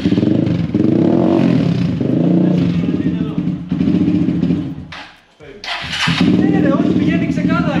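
Malaguti 150 motorcycle engine running after idle repairs, a close buzzing drone that dips briefly, then picks back up with revving, while people talk over it.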